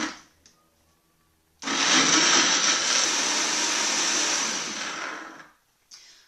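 A regular countertop blender whirs loudly as it blends a green smoothie, starting abruptly after a quiet moment and running in a steady roar for about four seconds before cutting off.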